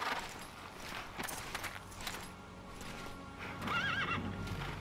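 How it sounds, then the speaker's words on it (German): A horse whinnies with a wavering, rising call in the video game Castlevania: Lords of Shadow, over a busy background of hoof clops and rustling. "Wir haben dieses nette Pferd, welches uns schon mal begleitet hat und dann abgeworfen hat."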